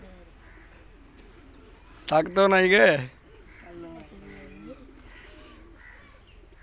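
Pet pigeons coo softly in the background, faint and low, around a short burst of loud nearby speech.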